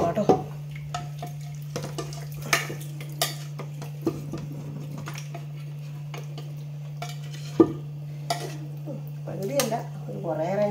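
A spoon stirs Kottayam-style kappa and beef curry in a pan, with soft scraping and occasional sharp clinks against the metal over a steady low hum, and brief faint talk near the end.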